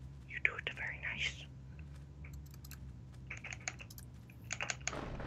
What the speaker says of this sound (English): I like how I press spacebar so hard that my keyboard actually moves